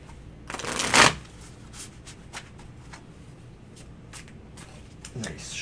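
A deck of tarot cards is shuffled close up, with a loud riffling burst followed by softer taps and slides of the cards as they settle.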